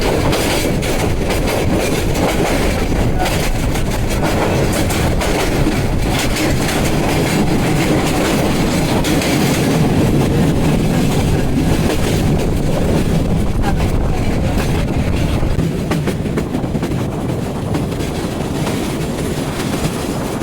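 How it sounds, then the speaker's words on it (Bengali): The Parabat Express intercity passenger train rumbles along at speed in Bangladesh, a loud continuous roar with rhythmic rattling of the carriages close by. "আমাদের ট্রেন ছুটে চলে যাচ্ছে"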